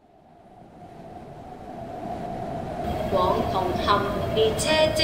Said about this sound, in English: The train to Hong Kong is arriving.